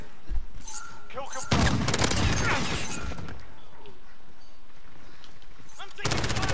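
Bursts of automatic gunfire in Modern Warfare multiplayer, loud rapid volleys at the start and again near the end with scattered shots between, while players talk over the combat.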